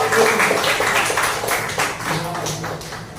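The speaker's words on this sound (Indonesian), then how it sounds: "beri aplaus tepuk tangan untuk kelompok" Students clap for a classroom group after its presentation, a short burst of brisk, close applause that fades slightly toward the end.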